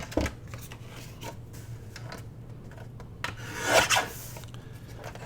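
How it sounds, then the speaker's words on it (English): Paper scrap being trimmed for a handmade journal tuck gives soft, close rasping cuts, with scattered light strokes and a brief louder scraping burst near the end against a steady low hum. "I'm just going to give it a slight little trim"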